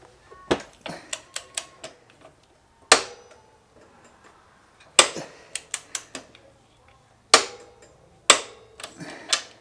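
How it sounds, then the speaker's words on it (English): Sharp metallic clicks from a torque wrench set to 77 newton meters while greasing a DR650 swing arm bearing, coming in quick clustered bursts with pauses between, close and crisp, with someone speaking between them. "Now's the first time I've used this torque wrench."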